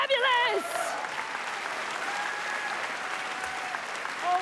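Steady applause from a large audience at the 82nd Golden Globe Awards ceremony fills the room, with a brief voice at the start before the clapping carries on alone.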